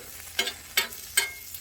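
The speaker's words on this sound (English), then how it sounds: "we're gonna put the peppers and onions on" Peppers and onions cooking on a 36-inch outdoor flat top griddle, with faint sizzling and three evenly spaced scraping stirs of a spatula, near and fairly quiet.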